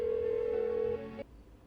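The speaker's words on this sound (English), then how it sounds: "Why won't she pick up the phone?" In Persona 4 Golden, a telephone rings unanswered as one steady, droning ring tone that holds for about a second and then cuts off, leaving a low background hum.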